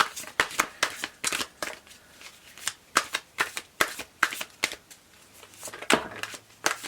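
Tarot cards are shuffled by hand in quick, crisp bursts of riffling and slapping, repeating about a dozen times in an irregular rhythm, close up and alone.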